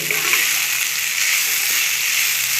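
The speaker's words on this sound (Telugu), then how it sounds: "పొడి పొడిగా పూర్తిగా చల్లారిన అన్నం వేసుకుని లైట్గా కలుపుకోవాలి" Cooled rice is stir-fried for vegetable fried rice, giving a dense, steady hiss of frying in a hot pan that runs evenly throughout at a fairly loud level.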